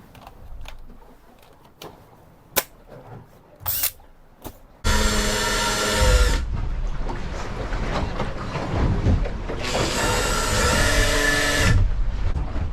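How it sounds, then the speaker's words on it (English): A few clicks and handling knocks, then a cordless drill driving a transfer pump whines into a long, loud run, briefly eases off, and revs up again, with water gurgling underneath as a 20-litre jerry can is pumped on a boat. "I'm just gonna arm up this drill, ready to run the pump"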